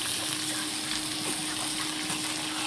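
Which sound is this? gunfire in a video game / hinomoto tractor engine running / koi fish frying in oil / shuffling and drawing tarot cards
koi fish frying in oil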